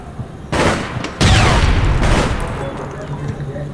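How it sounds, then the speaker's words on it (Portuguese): A grenade goes off in the online shooter APB Reloaded, a loud close boom with a crackling blast tail that fades over a few seconds, with a voice briefly audible nearby. "Ai, granada."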